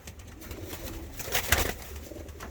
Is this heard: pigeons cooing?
yes